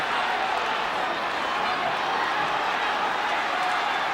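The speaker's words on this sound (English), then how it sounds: "the crowd setting up a hell of a chant" A rugby league crowd at a 1982 Roosters v Magpies minor preliminary semi final fills the air with a steady, dense roar of massed voices, heard from a distance as one continuous wash of sound. A commentator's voice may sit faintly beneath it.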